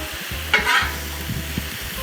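Meat cooks on a Blackstone flat-top griddle with a steady close sizzle, broken by one brief scraping stir near the start, over a low background hum.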